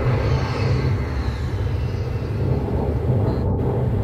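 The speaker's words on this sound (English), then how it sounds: "Oh yeah, there's F-18s as well." F-18 jet planes roaring overhead in the Call of Duty Warzone video game, a steady loud low rumble of jet engines that holds throughout with no speech.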